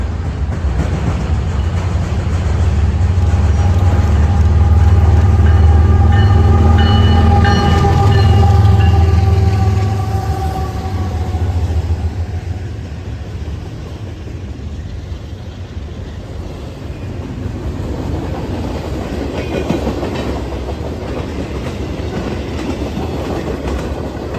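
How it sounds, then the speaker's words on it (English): An eastbound BNSF intermodal freight train rolls past, loud and close with heavy rumble and a rising-then-falling engine tone, then the rattle and clatter of cars continues more softly as it moves away. "our next train would be an eastbound BNSF Intermodal ZSTP CHC out of St. Paul, Minnesota, down to Cicero, Illinois."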